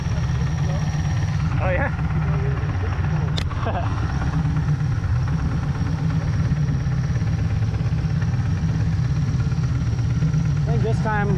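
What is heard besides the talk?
supercharged LS engine of jet boat running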